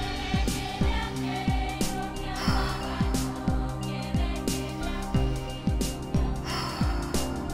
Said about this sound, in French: On va partir ensemble pour le dernier cycle de respiration circulaire.